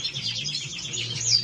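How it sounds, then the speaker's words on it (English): Caged goldfinch mules and a cinnamon greenfinch mule keep up continuous high twittering and chirping nearby, a soft low hum running beneath and no talking. "Some amazing goldfinch mules and a very nice cinnamon greenfinch mule."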